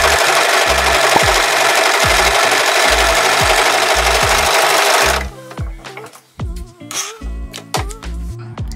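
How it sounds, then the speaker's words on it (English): A serger stitches along the raw top edge of apron fabric, running with a loud, fast, steady mechanical whir for about five seconds, then stopping and giving way to scattered handling clicks and knocks. "now we're going to go to the machine and serge the raw top edge"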